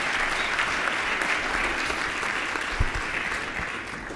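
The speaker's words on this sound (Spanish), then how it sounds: "Un aplauso." Audience at a national security forum applauds steadily for a speaker being introduced, a dense sustained clapping that holds at an even level throughout.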